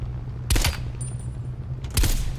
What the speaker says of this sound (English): where'd you learn to shoot like that?